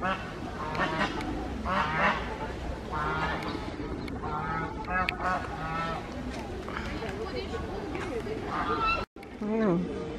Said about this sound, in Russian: Уточки. Вот утятки.